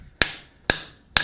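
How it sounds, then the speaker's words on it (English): Three evenly spaced, ringing metallic strikes as a hammer drives hot steel against the anvil edge while forming a fold-formed bowl, each blow loud and close with a bright decaying ring. "now I can hammer directly against the anvil edge"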